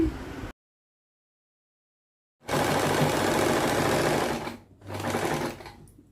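A sewing machine stitches a fall onto a saree in two runs, a long steady mechanical whirr followed by a shorter burst, with near silence before.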